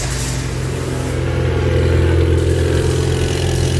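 A Ford Fiesta ST engine with a new downpipe idles loudly and close by, a deep, throaty rumble holding steady throughout.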